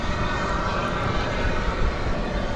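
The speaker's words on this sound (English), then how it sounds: "It's the Reno Air Heritage livery of American Airlines on that there plane" An American Airlines jet in Reno Air Heritage livery takes off at Dallas Fort Worth airport at night, its engines producing a loud, continuous broadband roar throughout with no voices.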